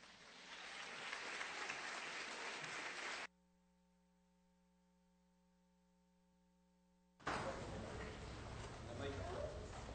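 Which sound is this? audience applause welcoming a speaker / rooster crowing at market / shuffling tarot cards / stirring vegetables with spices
audience applause welcoming a speaker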